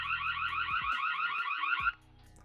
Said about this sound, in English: There's also an alarm button that will trigger an audio alarm